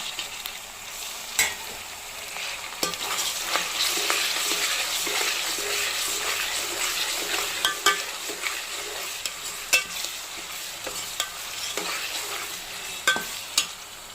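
Tomatoes frying in a pan give a steady soft sizzle, broken by repeated scraping clicks of a spoon stirring them, close up with no talking.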